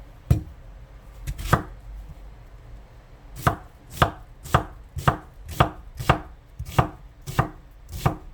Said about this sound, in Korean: 야채부터 썰게요.